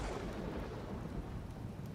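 Steady rain with a low rumble of thunder in the video game Empyrion Galactic Survival, a continuous dense wash of noise with no voices.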